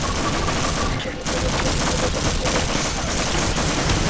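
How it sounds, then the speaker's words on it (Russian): Dense, continuous video game gunfire rolls on steadily throughout, with a brief dip in the middle before the shooting picks back up; no one talks over it. "А хули там по меня стреляет?"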